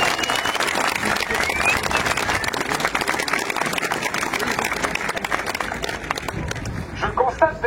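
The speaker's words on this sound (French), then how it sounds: "Et pour ça, vous pouvez vous applaudir déjà." A crowd at an outdoor car tuning show claps and cheers, a thick, continuous wash of applause holding steady throughout, with a few sharper claps and shouts rising near the end.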